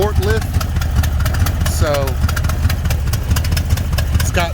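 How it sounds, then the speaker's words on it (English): A 1968 El Camino engine idles through a worn, clapped-out exhaust with a steady low rumble, loud and close, while a person talks over it. "I'll show you the exhaust because it is clapped out"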